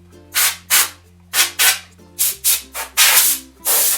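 Short bursts of cleaning spray on a waterproof mobile device: about nine sharp, loud hissing puffs in an uneven rhythm, each lasting a fraction of a second, with no talk.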